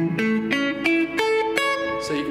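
A-major arpeggio played by sweep picking on an electric guitar, a handful of quick separate notes ringing close and fairly loud, with no one talking over it.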